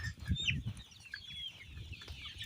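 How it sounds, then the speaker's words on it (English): Free-range improved village chickens cluck and squawk close by on a farm in Zambia, several birds calling in short, irregular bursts over a quiet outdoor background with no talking. "free range chickens, improved village chickens"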